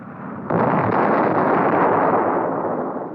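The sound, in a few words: napalm attack explosion on a simulated missile control van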